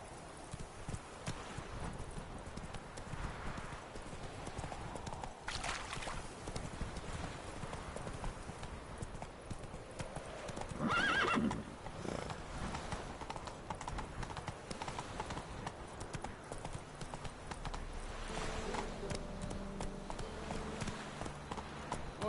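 Horse hooves clip-clop at a steady gallop through much of the stretch in The Witcher 3, with game ambience and music underneath; a neigh is not clearly evident.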